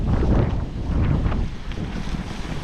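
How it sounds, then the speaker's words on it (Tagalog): Strong waves crash against a baywalk in Tanauan, Batangas, a continuous rough surge of water with heavy wind buffeting the microphone, loud and close throughout. "umahampas talaga yung alon. Ganyan kalakas"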